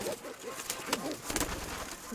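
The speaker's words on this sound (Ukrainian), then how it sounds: "білу голубку показати. Ось вона." A white dove coos softly nearby in a few short, rolling low calls, faint and clear over a quiet background.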